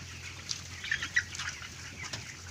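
Broiler chickens in a highland coop cluck quietly in a few short, scattered bursts over a steady low hum.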